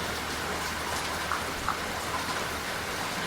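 Steady rain patters against a train window on a coastal express at night, a soft continuous hiss with a few faint droplet ticks, no voices.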